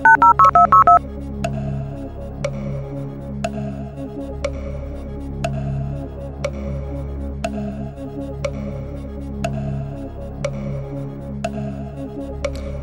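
Telephone dialing in a Who Wants To Be A Millionaire pub quiz video game: a quick burst of touch-tone beeps, then a long series of evenly spaced ringing clicks over a low looping music bed.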